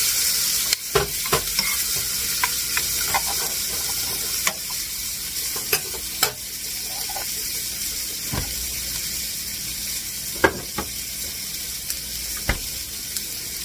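Garlic and onions sizzle steadily in a pan on the stove for bean, ham and potato soup, with sharp scraping stirs and clicks popping up over the constant frying hiss.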